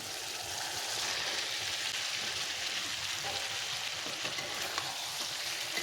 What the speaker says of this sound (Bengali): সবজির সাথে মশলাটা খুব ভালোভাবে কষিয়ে নেব